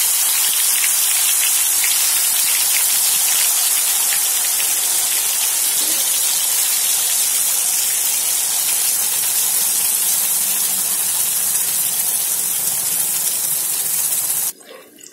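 Mustard seeds and cumin sizzle steadily in hot oil for stuffed masala eggplant, a loud continuous crackling hiss that runs alone throughout before cutting off abruptly at the very end.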